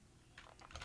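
Quiet keystrokes on a computer keyboard, a short burst of several quick clicks, close and soft, as commands are typed during web development setup.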